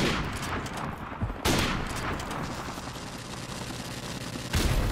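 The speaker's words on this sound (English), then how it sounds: "I'll kill him with my sniper right now." Sniper rifle fire in the video game Call of Duty 4: two sharp, loud shots about three seconds apart, each followed by a short ringing tail, with game ambience between them.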